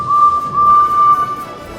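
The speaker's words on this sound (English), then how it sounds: "Suddenly, they heard a whistle." A steam locomotive whistle sounds as one steady, sustained tone lasting over a second, clear and moderately loud above a quiet rumbling background.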